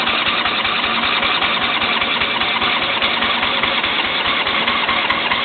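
A John Deere L120 lawn tractor engine cranks and runs in a cold start attempt, a loud, steady, rapid mechanical chugging close by that never lets up.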